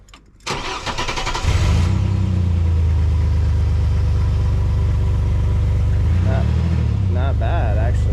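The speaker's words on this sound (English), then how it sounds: "We're gonna give it a little start. See how she sounds." A Chevy Blazer fitted with a Cherry Bomb exhaust cranks over and fires up, then settles into a steady, rumbling idle close by. A few brief revs swell near the end.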